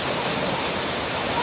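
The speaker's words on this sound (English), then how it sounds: "looking at the Hedge Falls" Hedge Falls waterfall near Mount Shasta, reached through woods, pours as a loud, unbroken rushing hiss close to the microphone, steady throughout with no talk.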